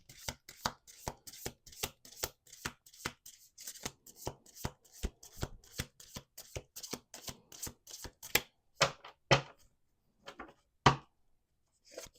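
A long run of close tarot card shuffling, rapid rhythmic snaps that slow and thin out near the end into a few separate taps and pauses.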